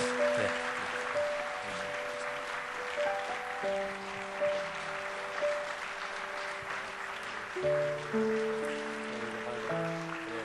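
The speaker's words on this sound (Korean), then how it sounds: "다 같이 한번 기도할 때 크게 박수해 주시기 바랍니다" A church congregation claps loudly together during a prayer service, making a steady wash of applause that lasts throughout, with sustained organ or keyboard tones underneath.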